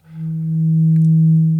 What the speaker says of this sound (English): that is the sound of a pure sine wave being converted to 8-bit digital at a sampling frequency of 2 megahertz